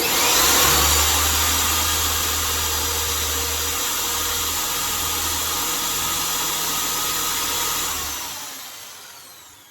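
An electric drill boring a 10mm hole while building a model railway layout, a loud, steady whirring drone that runs unbroken for about eight seconds, then winds down and stops.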